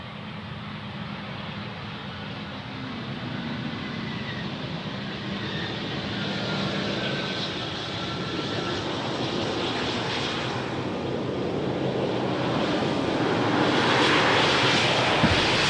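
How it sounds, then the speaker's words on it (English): An Embraer jet lands on runway 18R at Amsterdam Schiphol, its engine roar building steadily from a broad rumble to a loud, rushing whine with reverse-thrust noise near the end, no voices. "The Embraer vacating the runway here at the first exit"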